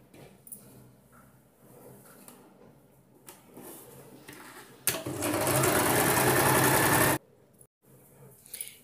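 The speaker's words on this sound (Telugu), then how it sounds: "ఈ పీస్ని కూడా మనము ఇక్కడ నుంచి మొత్తము కుట్టు వేసేద్దామండి" A sewing machine stitches a boat neck blouse piece in one loud, steady burst of about two seconds that stops abruptly, after quieter handling noises and faint talk.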